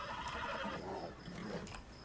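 A horse in the Red Dead Redemption 2 video game neighs in a long, quavering whinny at moderate distance, followed by faint hoof clip-clops.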